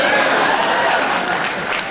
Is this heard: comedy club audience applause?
yes